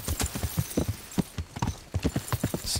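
Horses' hooves clip-clopping at a walk in the medieval video game Kingdom Come: Deliverance, a quick uneven series of soft thuds, fairly quiet.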